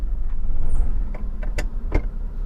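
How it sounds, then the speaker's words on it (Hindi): Engine hum of a manual car pulling away as the clutch is slowly released and the accelerator pressed, with a few sharp clicks and short knocks over the low drone. "ये देखिए दोस्तों मेरी गाड़ी चलने लगी।"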